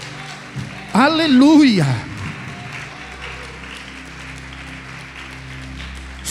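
A church congregation claps in a dense, steady wash, while a voice calls out loudly over it for about a second near the start before the applause continues alone.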